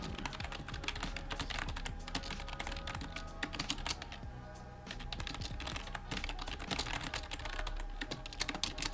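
Continuous rapid typing on a non-mechanical keyboard built to imitate mechanical keys, dense clicky keystrokes rattling close and steady with only a brief lull midway.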